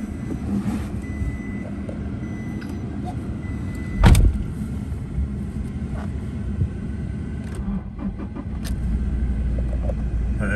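A 2017 Toyota Hilux SR 4x4 dual-cab ute starts with a brief sharp crank burst, then settles into a steady low idle rumble, with a few clicks and a slight rise at the end.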